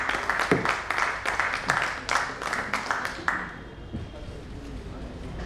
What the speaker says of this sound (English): Please give a big round of applause to Mr. Govind